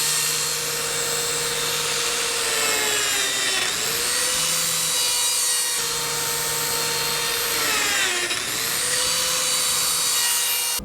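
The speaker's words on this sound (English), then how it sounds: "I'm going to cut a slot in the sides of the panels" A Lamello Zeta P2 joiner plunge-cuts slots into panel edges, a loud high motor whine that dips in pitch twice as the blade bites into the wood, then recovers, with a steady motor hum underneath.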